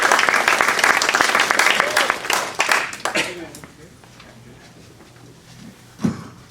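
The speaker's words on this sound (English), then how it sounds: "let's give her a round of applause as she comes forward" Audience applause at a funeral-planning presentation, loud and dense at first, fading away after about three seconds into a quiet room, with a brief knock near the end.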